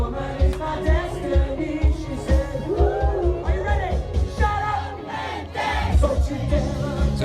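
A crowd mingles at a garden party show held in a back-garden marquee, with steady loud chatter, shouts and laughter overlapping under a thumping beat of music.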